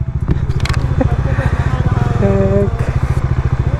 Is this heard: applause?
no